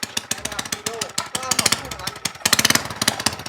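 A car engine runs roughly with a rapid, chattering rhythm right after a new 5.5 bar fuel pump was fitted, loud and close, while someone talks excitedly over it.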